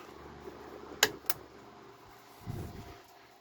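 A vintage Lakewood model 900A electric fan runs with a steady, soft whirring hum like an old hair dryer, broken by a couple of sharp clicks and a low knock.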